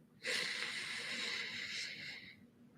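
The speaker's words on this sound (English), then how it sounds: "Now let's take one big breath together, breathing in" One long, deep inhalation during a guided breathing exercise, a breathy airy rush that starts abruptly, holds steady for about two seconds, then stops, close and fairly soft.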